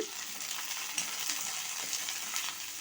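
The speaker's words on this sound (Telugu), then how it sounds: "ఆయిల్ కొద్దిగా వేడెక్కాక 1 కప్పు పల్లీలు వేసి లో ఫ్లేమ్‌లో కలుపుకుంటూ వేయించుకోవాలి" Peanuts frying in oil on a low flame while being stirred, a soft, quiet sizzle with light scraping and clicking of the nuts, close and with no voices.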